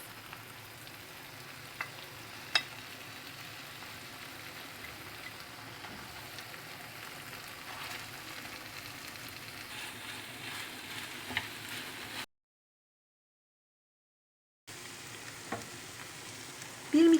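Soft continuous sizzling of rice and chopped greens sautéing in a pan, with a few faint clicks, briefly cutting to silence before resuming.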